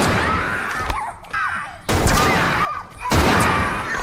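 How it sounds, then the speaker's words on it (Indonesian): Gunfire in a film scene, a loud close burst of shots and crashing impacts that starts, pauses and returns in dense waves over a steady noisy background. "Sally dan Donnie pun harus tewas ditembak oleh orang misterius yang berada di lantai atas"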